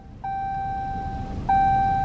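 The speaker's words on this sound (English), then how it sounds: "I know that beeping probably irritating" Two loud electronic beeps in a steady tone, the first sounding for about a second and the second starting just after, loud and close with nothing else over them.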